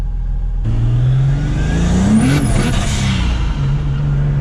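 A turbocharged 3.0-litre M52 engine in a BMW E30 revs hard and loud close by, rising in pitch to a peak with a whistling turbo whine, then dropping back to a steady drone.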